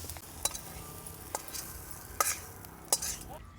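Spices sautéing in a kadhai for vada pav filling, with a steady soft sizzle and a few sharp clinks of a spoon stirring against the pan, close and alone without voices.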